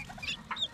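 Young guinea fowl keets give a few brief, high chirping peeps close by, quiet and over in under a second.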